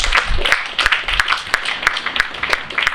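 Scattered clapping from a crowd at a 2023 women's day ceremony, a steady patter of hand claps with sharp individual claps standing out throughout.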